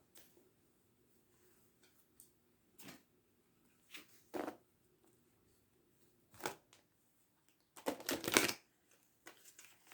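Cards shuffled and drawn from an oracle deck, heard as several short soft rustling bursts spaced apart, the longest and loudest near the end, over a quiet room with no talking.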